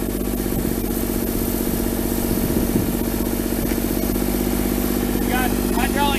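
An M-B Companies 53H street sweeper with hydraulic drive runs its engine in a steady, close idling drone with a low rumble and even vibration. Some brief squeaky chirps rise near the end.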